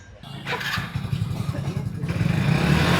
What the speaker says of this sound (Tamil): இந்த வண்டி ஹீரோ ஸ்ப்ளெண்டர்.